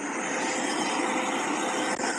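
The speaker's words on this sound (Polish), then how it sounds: "Wybrałem akurat szum samolotowy" Steady broadband roar of an aircraft cabin, a constant whooshing engine hum with no breaks, fairly loud and close.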